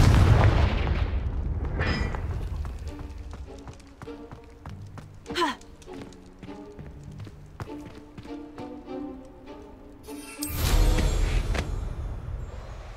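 Fire-spell blasts in Hogwarts Legacy: a loud booming burst opens, a sharp crack follows midway, and another heavy explosion rumbles near the end over game music and effects.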